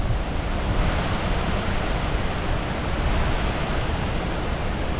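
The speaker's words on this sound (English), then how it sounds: "Just hearing that river flow, the sound, the ambient sound is just very relaxing." The White River flowing from waterfalls in Indianapolis: steady rushing water roars continuously, a dense, unbroken wash of sound with no voices and no pauses.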